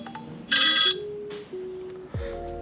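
A phone rings inside a vehicle, a close electronic ringtone with a loud burst of bright chiming tones followed by lower sustained notes and a brief thump near the end, with no talk.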